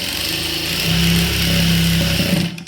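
A sewing machine stitching a blouse, a continuous close mechanical whirring with a steady rapid rhythm lasting a couple of seconds before stopping abruptly.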